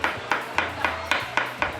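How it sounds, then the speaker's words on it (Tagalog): Sharp knocks pounding on a fish pond post to summon arapaima, seven evenly spaced hard hits about a quarter second apart, fairly close, with a low hum underneath and no talk. "pinupukpok lang nila ang poste ng fish pond"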